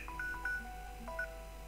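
Short electronic tones like a mobile phone's beeps chirp several times, mixed with soft game background sounds from the shooter Soldier of Fortune II: Double Helix.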